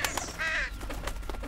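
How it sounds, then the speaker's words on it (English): A crow caws in the video game Condemned: Criminal Origins, a harsh drawn-out call rising clearly over a low ambient hum, followed by faint scattered clicks. "that's a bird"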